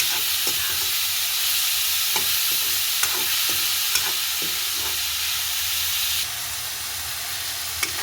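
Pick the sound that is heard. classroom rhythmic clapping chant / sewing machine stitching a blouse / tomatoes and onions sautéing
tomatoes and onions sautéing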